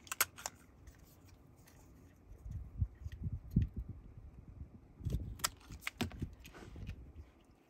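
Scissors snip through a paper hexagon in a quiet room, a series of short crisp cuts in two clusters, close and fairly faint.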